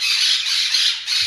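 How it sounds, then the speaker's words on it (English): Loud, harsh parrot squawking close by, a continuous shrill screech with brief pulses and no talking. "The parrots haven't been this loud in days."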